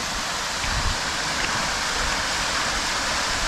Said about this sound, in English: this pond that I'm fishing is a dammed up creek. Look at this waterfall.